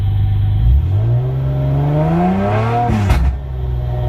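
A turbocharged V6 Hyundai Tiburon engine on a dual tune revs up through a rising sweep, then drops sharply with a brief crackling burst of exhaust pops near the end, loud and close.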